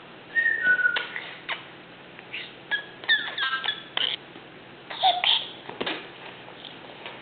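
A baby makes breathy, wavering whistle-like squeaks in short bursts, with babbling sounds between them, close and moderately loud.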